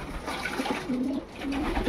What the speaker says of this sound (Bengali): দেখুন সব পায়রা স্নান করতে, স্নান দিয়েছে, এখানে কিছু বসে আছে।